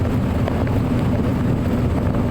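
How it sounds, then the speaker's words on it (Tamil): Strong wind buffets the microphone as a loaded truck travels along a highway, a steady broadband roar with low rumble, continuous and loud, with no talking. "காற்று அடிக்குது."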